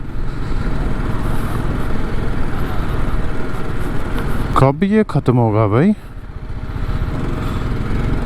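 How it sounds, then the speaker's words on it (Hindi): Loaded motorcycle labouring through mud on a road into Kandahar, Afghanistan, a loud, close, continuous engine drone with a voice briefly speaking over it midway. "कीचड़ पे ना बाइक चलाना बहुत मुश्किल हो जाता है, और जब लोड हो बाइक पे तो और भी मुश्किल है।"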